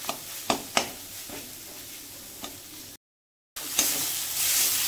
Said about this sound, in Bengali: তো মশলাটা ভালো মতো করে ভেজে নিতে হবে।